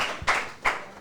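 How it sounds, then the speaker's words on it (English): Two quick, sharp hand claps land close together at close range, brief and crisp, with no talking. "round of applause for that"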